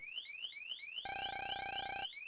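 A synthetic alarm from the video game Mega Man Star Force DX repeats rising electronic sweeps, a steady harsh buzzing tone cuts in for about a second, then the sweeps resume, loud and alone.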